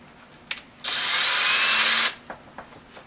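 A power drill briefly countersinking a hole in a plastic door panel, a single whirring burst of just over a second, framed by small clicks and handling taps.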